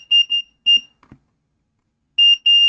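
A multimeter in continuity mode gives several sharp, high-pitched beeps in short bursts as its probes touch a wired electronics prototype, with quiet gaps and faint handling clicks between them.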